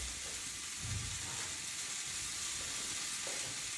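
A T-bone steak sizzles and fries in a pan, a steady bright hiss with occasional soft spatters, alone and fairly quiet.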